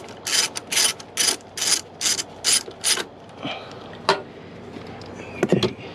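A hand ratchet loosens valve cover bolts on a 2008 BMW 328xi, seven quick evenly spaced bursts of clicking up close, followed by scattered metallic taps and clinks of the tool and bolt.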